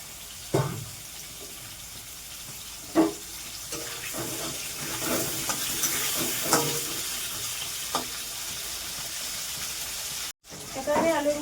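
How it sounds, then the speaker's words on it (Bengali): Potatoes fry in a home kitchen pan with a steady, close hiss of oil, broken by a few sharp clanks and scrapes of a utensil. "তাই চলো এখন আলুটা ভাজা যায়।"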